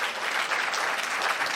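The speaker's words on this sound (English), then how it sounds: "Let's have one last round of applause for all 15 of them" Dense, steady applause from an evening awards audience honoring fifteen award recipients, loud and continuous throughout with no voices standing out.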